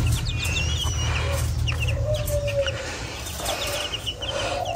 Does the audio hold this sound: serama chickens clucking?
yes